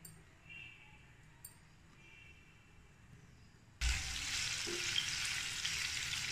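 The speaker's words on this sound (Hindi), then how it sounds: "थोड़ा सा रोस्ट करेंगे, ज़्यादा नहीं, एकदम डीप फ्राई नहीं करना है हमें।" Paneer frying lightly in hot oil in a pan for a matar paneer pulav: quiet kitchen sounds first, then a sudden loud, steady sizzle as the pieces go in, continuing close up without talk.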